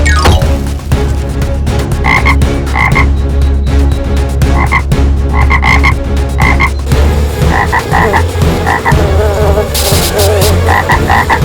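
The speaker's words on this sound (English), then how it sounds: "Standing near a ditch, the frogs began croaking." Frogs croak loudly near a ditch, a dense repeating chorus of close, rhythmic croaks in short clusters over a steady buzzing background, in an animated children's story.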